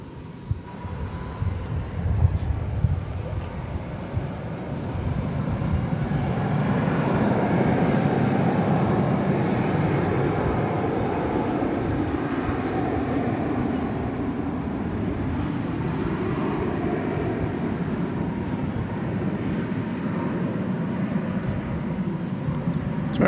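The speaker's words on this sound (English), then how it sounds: "American Flight 2224 going to Portland, Oregon. Airbus A321 on runway DFW after dark." American Airlines Airbus A321 taking off from DFW Airport after dark, a broad jet engine roar that swells and then holds steady at a middle distance, with a faint high whine above it.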